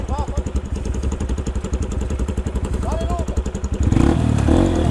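A Honda Bros 160 motorcycle sits by a river, its single-cylinder engine chugging in a fast, steady pulse, close and loud, before it surges briefly near the end; voices talk nearby.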